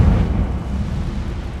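The Incendio fire spell in Hogwarts Legacy bursts out as a loud, low rumbling whoosh of flame, a brief heavy roar close up that fades slightly over a second and a half.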